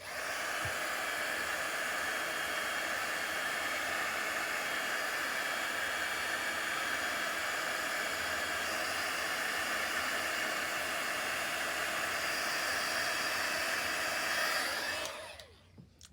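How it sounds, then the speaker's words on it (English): A heat gun blowing hot air over a plasticky metal piece, a loud steady whooshing roar that holds for about fifteen seconds before cutting off at the end. "I'm going to hit this with the heat gun real quick"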